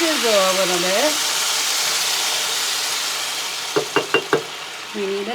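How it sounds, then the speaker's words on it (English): Rice sizzles in a pan as chicken broth is stirred in, a steady sizzling hiss filling the clip, with brief voice sounds at the start and end and a few quick clinks near the end. "Going to sizzle a little bit."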